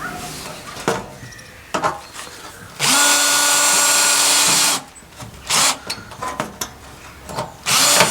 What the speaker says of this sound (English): See all these rivets? We're going to drill them out.